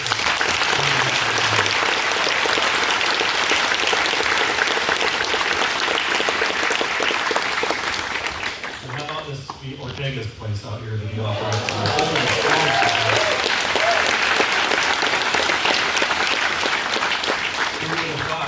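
Audience applause at a sheriff's public event, loud and sustained with a brief dip in the middle while a voice speaks over it, then swelling back to full clapping.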